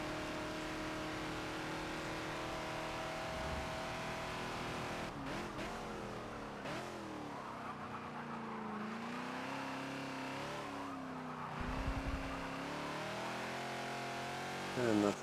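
Ford Falcon XB lapping Spa in Forza, its engine droning and shifting pitch through revs and gear changes, with brief tire noise, heard steadily under someone talking throughout.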